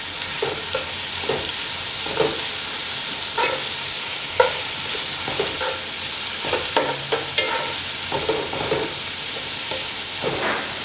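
Tomatoes sautéing in a pan for a tuyo pasta, a continuous bright sizzle broken by scraping stirs of a utensil against the pan every second or so, close and moderately loud with no talk.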